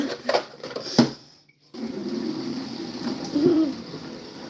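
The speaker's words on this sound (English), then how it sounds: "You just don't want to hear the birds in the goat house" Birds coo inside a goat house, with a short low hooting phrase rising near the end over a steady background hum, after some earlier knocks and clatter.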